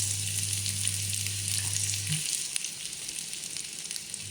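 Onion frying in a pan for sweet and sour chicken, a steady bright sizzle close by with a low hum under the first half, then an occasional light stir.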